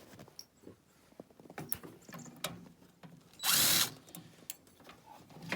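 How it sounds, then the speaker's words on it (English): A power drill spins out the screws holding a fan motor in short bursts, with one longer whirring run in the middle, amid clatter and handling noises at close range. "take these screws off that hold the motor on."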